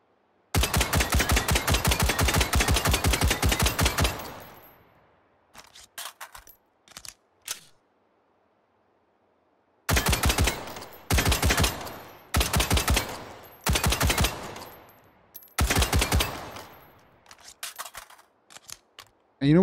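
A semi-automatic gun fires in the VR game Hot Dogs, Horseshoes & Hand Grenades, loud rapid volleys of sharp shots in several bursts, separated by brief single shots, mechanical clicks and silent gaps.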